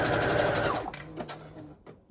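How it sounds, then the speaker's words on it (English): Close, rapid chatter of a sewing machine running a zigzag stitch through a paper snippet roll, a fast steady buzz that stops after under a second, followed by a few quieter mechanical clicks and handling. "do a zigzag stitch just because it's going to allow me to sew on a bit more at once"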